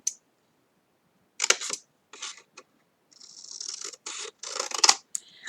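Scissors snip through paper card in several short crisp cuts, close and clear, with quiet pauses between bursts.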